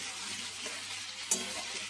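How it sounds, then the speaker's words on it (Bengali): Chicken frying in a little oil with tomato added, a dense constant hiss of sizzling with a single brief utensil tap, heard close and alone. "আমি অল্প একটু তেলের মধ্যে চিকেনটা তো দিয়ে দিয়েছিলাম, আর চিকেনটা ভাজতে ভাজতে একটু তেল বেরিয়ে এসছে। আমি দিয়ে দিয়েছি টমেটো।"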